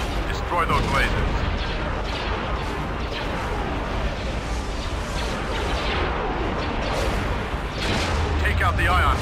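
Starship weapons fire continuously at laser cannons in the Star Wars Empire at War space battle, a dense, loud wash of blasts and booms that runs the whole time without letting up.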